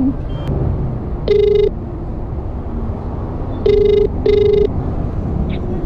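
An outgoing phone call rings back through a handset: three short electronic ring tones, clear and close, spaced over a few seconds against low background noise and faint street sounds.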